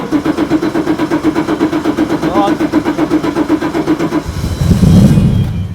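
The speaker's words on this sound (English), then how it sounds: "press the start button. Give it a little bit of throttle." A motor vehicle engine is started and given throttle, first a steady pulsing idle, then a deeper, louder surge of revving near the end, heard up close.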